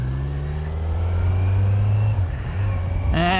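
Kawasaki Z900 motorcycle on its stock exhaust, a steady loud engine drone with strong low harmonics, the pitch sagging and then climbing again in a quick rev near the end.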